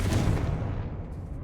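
The Confringo fire spell in Hogwarts Legacy goes off as a deep, rumbling blast that starts loud and slowly fades over about a second, with no speech.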